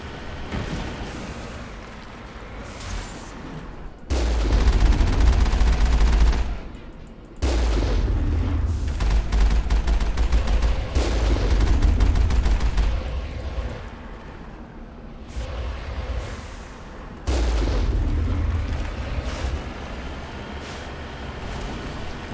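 Bursts of turret gunfire and heavy booms from the game Mass Effect come in loud sustained blasts separated by brief quieter gaps, repeating several times with no talking.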